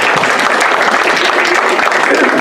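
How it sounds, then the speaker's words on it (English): A panel event audience gives a dense, steady round of applause for the returning panelists, with many hands clapping close and loud. "I would like to give them a round of applause for returning to this"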